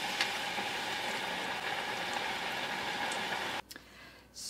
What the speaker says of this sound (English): this will be in the oil, in the frying oil, for 5 minutes